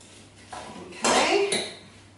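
A utensil stirring rhubarb cooking in a pan, giving a short burst of metallic clatter and scraping against the pan that rises sharply and then fades.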